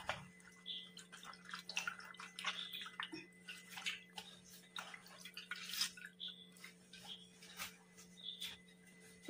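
Water sloshes and drips as a stained shirt is washed by hand, with irregular splashes and trickles close by, fairly quiet and without talk.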